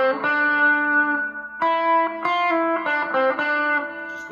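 An electric guitar with a slightly crunchy, mildly distorted tone strums a few ringing chords in an uneven rhythm, played alone and fairly close.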